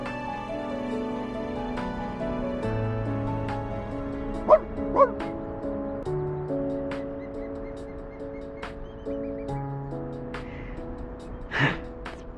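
A puppy in the video game Reverse 1999 gives a few soft yips and whimpers over a sustained piano-like musical score, with short sharp bursts standing out briefly around the middle and near the end.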